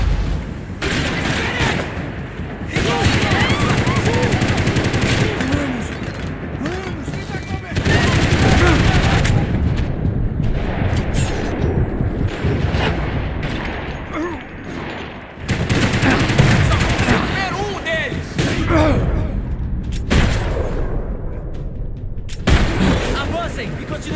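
Heavy gunfire in Max Payne 3, repeated bursts and volleys of shots with booming impacts, loud and close, broken by brief pauses, while voices shout over the combat.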